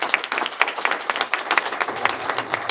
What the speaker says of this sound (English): Everyone can give a big round of applause for our sponsors.